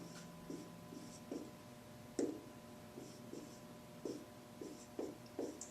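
A pen or pencil writes on paper, with short, close scratching strokes and taps arriving in irregular bursts over a faint background hum.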